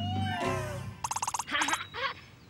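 A kitten in a Vietnamese children's cartoon gives a quick burst of high, pulsing meows followed by a couple of longer mews, close and clear, with a little speech mixed in.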